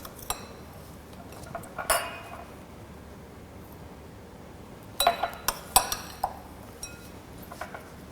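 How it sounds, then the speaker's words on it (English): A spoon clinks against glasses as dessert crumbs are portioned into them: scattered light taps, then a quick run of sharper clinks, close and otherwise quiet. "I'm just going to literally spoon this into each glass"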